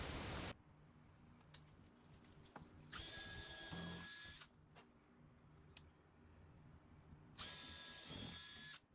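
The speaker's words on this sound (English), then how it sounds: "add a completed frame with a sheet of plexiglass to drill out the 4 holes" Two bursts of a high-pitched power drill whining through plexiglass, each lasting over a second, separated by quiet shop clicks and handling noise.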